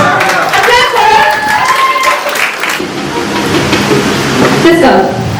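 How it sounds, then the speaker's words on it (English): An audience at a college speaking challenge applauds a student, with steady crowd clapping throughout, loud and close, while voices talk over it. "Applause for her."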